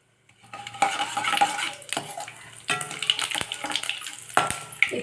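Spices sizzle and crackle in hot oil while being tempered for a bitter gourd tamarind curry, a metal spoon scraping and clinking against the pan, close and busy, with no voices.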